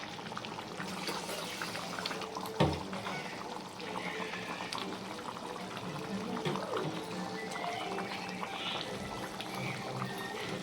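Fish curry (kuzhambu) with dried fish simmers in a pot. Low bubbling and liquid trickling run steadily throughout, with a faint knock and occasional soft voice in the background.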